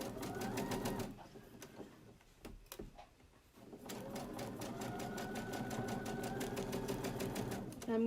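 A sewing machine back tacks to secure elastic on a face mask, its steady rapid stitching whirring in close bursts with a short pause midway, while a person talks over it.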